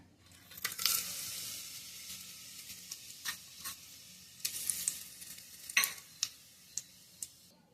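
Whole spice masala of shahjeera, bay leaf, cloves, cardamom and star anise sizzling in hot oil with chicken, a bright frying hiss punctuated by clinking stirs and spoon taps, close and without talk.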